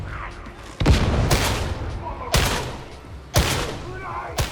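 A las gun fires in the video game Darktide: four sharp, booming energy shots spaced about a second apart, each ringing out briefly, with a voice talking over them.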